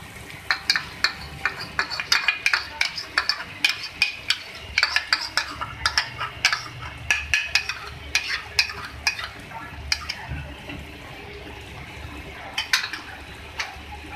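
A spoon stirs chicken bhuna masala with yogurt and a little water in a pan, producing repeated metallic scrapes and clinks over a low sizzle, fairly close and steady throughout with no talking.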